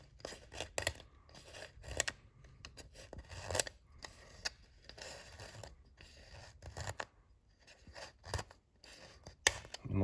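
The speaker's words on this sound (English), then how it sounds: "these thick razor blades work the best. And what you'll do is you'll scrape it away like this" A thick razor blade scrapes gasket residue off an Audi 2.0T engine in rapid, rhythmic bursts of gritty strokes, close and fairly loud with short pauses between passes.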